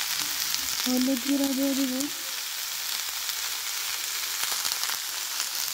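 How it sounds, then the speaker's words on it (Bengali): Vegetables fry in hot oil in a home kitchen pan, giving a steady close sizzle and crackle that runs through the whole clip, with a short stretch of spoken voice near the start. "সবজি তেলের মধ্যে দিয়ে ভেজে নিলাম।"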